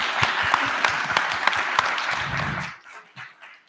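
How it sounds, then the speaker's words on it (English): Crowd applause at a hackathon awards livestream, dense, lively clapping that cuts off abruptly, followed by a brief quieter tail of room noise. "Round of applause for those comments."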